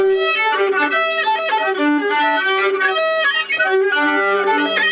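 Solo violin imitating a bard's in-game playing from Baldur's Gate 3, a loud, close melodic line of bowed sustained notes with quick note changes and no voice over it.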